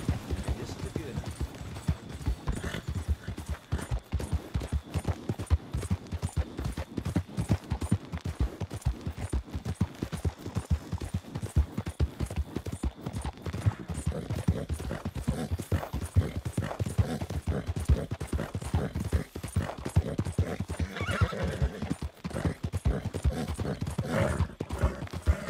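A horse's hooves clip-clop steadily at a brisk, even rhythm across a long stretch in the Red Dead Redemption 2 video game, close and continuous, with faint gunfire-like pops and a rider speaking briefly over the hoofbeats.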